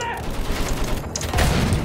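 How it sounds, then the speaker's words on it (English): Rapid gunfire from an anti-tank cannon and a machine gun in the World War I game Battlefield 1, a dense, continuous rumble of shots that grows louder and heavier in the last half second. "So you got two main cannons, by the way. You got the cannon, and then you got a machine gun."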